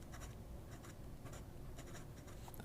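An Asvine C2000 ebonite fountain pen writes in reverse on paper, giving faint, close scratchy strokes in short repeated bursts against a quiet background.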